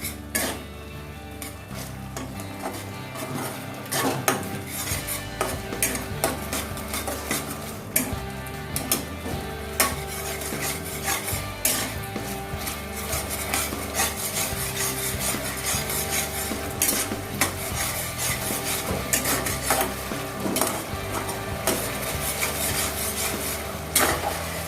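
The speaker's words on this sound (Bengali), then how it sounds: "এবার ভালো করে এটা মিশিয়ে নেবো এখন" Soya chunks stirred and mixed in a pan with a spoon, giving continuous scraping, rubbing and clinking against the metal, close and steady with no talk.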